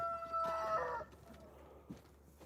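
A rooster crows once, loud and close, its harmonic call lasting about a second before the surroundings fall quiet.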